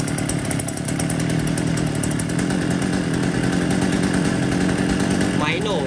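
A used chainsaw from an imported batch of brands such as Husqvarna, Zenoah, Makita or Shindaiwa runs steadily at a loud, constant engine drone, close by, with a brief voice near the end.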